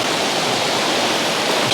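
Crystal-clear spring water gushes out from underneath a huge karst system, a loud, dense and constant rushing hiss with no other sounds.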